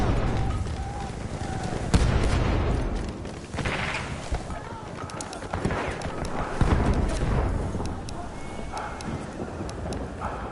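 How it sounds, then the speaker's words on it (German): A grenade goes off in a World War I Battlefield 1 match, a heavy blast among scattered gunfire and rumbling battle noise that fills the scene for several seconds. "Granate ist raus!"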